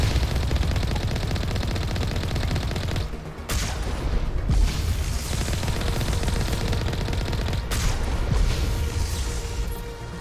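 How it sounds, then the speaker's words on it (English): Sustained automatic gunfire from the video game Mass Effect aimed at the player, dense rapid bursts filling the clip, with a brief lull near the middle and another short break later. "Stop shooting at me, buddy."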